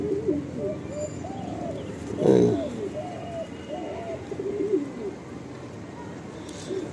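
A single male pigeon with deep jamun-coloured feathers, blue feet and black claws coos in repeated low rolling phrases close by, with a brief louder flutter or bump midway.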